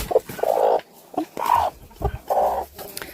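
Broody hens clucking up close in several loud, drawn-out bursts separated by short pauses, with no talk over them.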